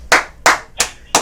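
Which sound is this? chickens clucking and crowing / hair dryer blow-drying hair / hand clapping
hand clapping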